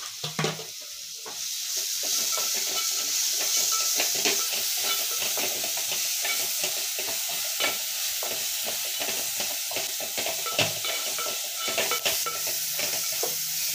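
Frying for javla chutney with salt and turmeric added crackles and sizzles steadily, broken by repeated scraping stirs against the pan, close and continuous without any talk.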